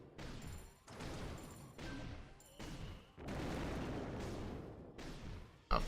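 Cannon fire in a base-attack strategy game, a series of heavy booming blasts about one per second, each with a rumbling decay, ending in a sharp louder hit.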